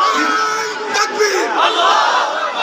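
Large religious gathering at a Milad-un-Nabi sermon roaring a unison chant in response, a loud sustained wall of many voices from a dense crowd, swelling and holding throughout.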